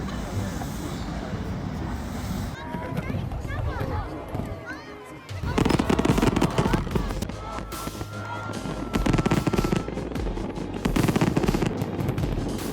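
Large-scale fireworks in China go off as a dense, rapid crackling barrage that swells in louder bursts, with a voice talking over it.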